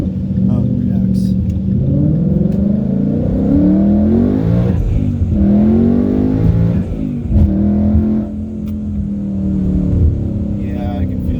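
A car fitted with a BMR IRS lockout kit accelerates hard on the road, its mid-pitched engine note climbing steadily in loud, continuous revving sweeps that rise and reset as it pulls through the gears, close and dominant throughout.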